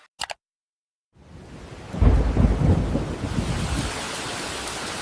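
In a village during heavy rain, a brief click and a moment of silence give way to a deep rumble of thunder that swells, then settles into a steady roar of falling rain.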